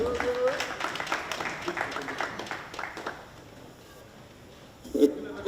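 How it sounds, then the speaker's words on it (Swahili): Applause for the boxers at a press briefing in Nairobi, a burst of clapping in the first three seconds that fades out, with a voice speaking over it. "Makofi yao,"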